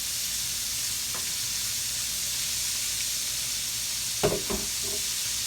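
Catfish frying in hot oil for a crispy fish sandwich, a loud steady hiss of bubbling oil close by, with a couple of brief clinks and scrapes as a spider skimmer moves the pieces near the end.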